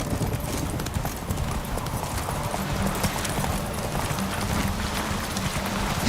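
Roach, Geralt's horse in The Witcher 3 video game, gallops in a steady rapid clip-clop of hooves, close and continuous throughout, with a brief whinny and faint voices in the background.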